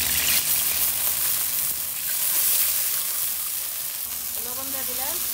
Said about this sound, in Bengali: এই যে পেঁয়াজ দিয়ে দিলাম, কাঁচামরিচ দিয়ে দিলাম